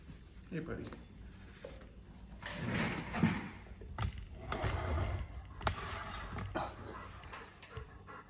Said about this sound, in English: That's my dog Spike.